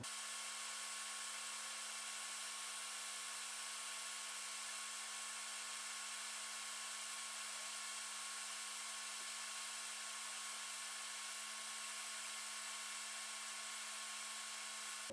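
A hot air rework station blows onto a Nintendo Switch circuit board at 450 °C and 70% airflow, with an extractor fan running nearby, giving a steady, hissing, hum-laced whoosh that holds unbroken and fairly faint throughout.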